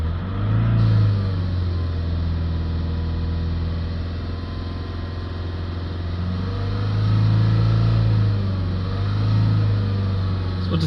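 Steady, loud engine drone from a Land Rover with a reduced injector circuit open fault (P2047-13), revs held up at a raised idle for several seconds with slight swells in pitch and no talk over it.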